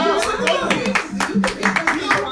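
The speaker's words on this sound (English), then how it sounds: "Give them a hand of applause then." Audience applause on a talk show, a steady patter of clapping hands lasting a couple of seconds, mixed with voices talking over it.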